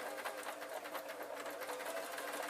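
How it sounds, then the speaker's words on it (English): A sewing machine stitches fabric while shirring a simple pillowcase dress, with elastic thread in the bobbin; a steady, close, continuous whirring hum with fast needle rhythm runs throughout, no voices. "I'm literally going to sew."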